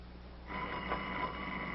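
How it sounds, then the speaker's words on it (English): Old-fashioned telephone ringing indoors in a 1942 film scene, a steady bright bell tone starting after a short quiet lead-in and holding to the end. "Go on, answer the phone."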